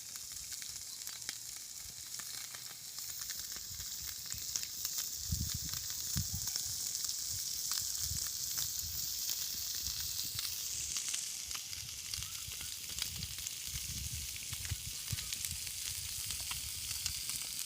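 Tilapia fish pieces fry in oil for a crispy fry, giving a continuous soft sizzle with scattered crackles and pops throughout and a faint low rumble underneath.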